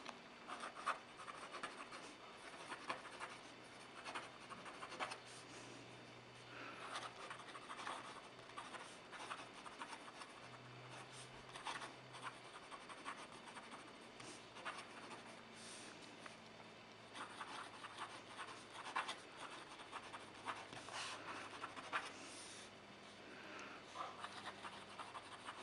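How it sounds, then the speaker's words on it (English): A Wahl Eversharp fountain pen with a ground number 4 semi-flex nib scratches across paper, giving a soft, continuous close-up rasp of strokes with brief pauses and no talking. "So let's give a writing sample."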